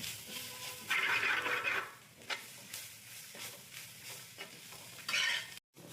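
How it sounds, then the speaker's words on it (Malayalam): Curry leaves and spices sauté in a pan for a crab curry, a steady sizzle broken by louder bursts of stirring and scraping, close and without speech. "നന്നായിട്ടൊന്ന് കറിവേപ്പില നന്നായിട്ടൊന്ന് വഴറ്റിയെടുക്കാം"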